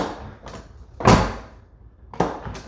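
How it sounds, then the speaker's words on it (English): A truck door on a first-generation Cummins pickup fitted with reinforcement parts swings and shuts in three distinct bursts, with the loudest, sharp thud in the middle. It sounds close-up, with no talk over it. "Feels really nice when you close the door now."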